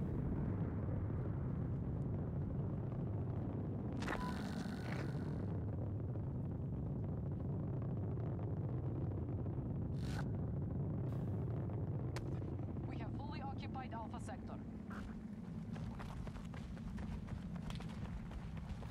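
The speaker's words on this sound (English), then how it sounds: "let you guys enjoy this rocket launch" Rocket launch in Battlefield 2042, a deep continuous rumbling roar lasting throughout, with a few sharp bursts and crackles on top and some distant voices.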